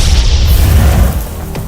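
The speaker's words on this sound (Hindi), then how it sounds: "विस्फोट" A loud, close booming explosion from a hot work accident blast, with a deep low rumble that swells and slowly fades over under two seconds.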